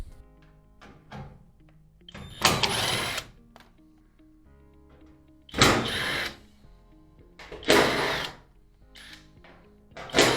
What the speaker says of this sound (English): let's go ahead and get these screws off